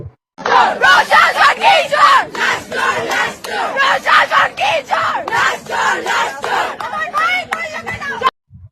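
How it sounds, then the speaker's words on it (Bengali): Angry students chant slogans in unison in front of police and army at a protest, a loud close crowd shouting rhythmic repeated bursts that rise and fall steadily for several seconds. "পুলিশ এবং সেনাবাহিনীর সামনে এই ধরনের স্লোগান দিচ্ছিলেন যে প্রশাসন কি চোর লাশ চোর লাশ চোর"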